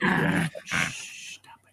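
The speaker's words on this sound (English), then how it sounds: "No, that's a dog." A dog gives a couple of short, loud growly barks or yelps at close range in a house, followed by quieter low noise as the sound tails off.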